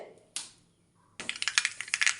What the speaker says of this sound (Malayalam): കടുക് പൊട്ടി വരുന്ന സമയത്ത്